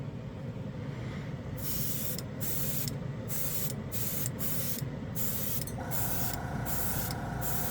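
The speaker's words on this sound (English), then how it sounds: "We're going to go ahead and use my Evolution, Harder and Steinbeck. Very efficient airbrush." A Harder and Steinbeck Evolution airbrush sprays metallic paint at 20 psi, a steady close hiss throughout, broken by a rhythmic series of short pauses as the trigger is released and pressed again.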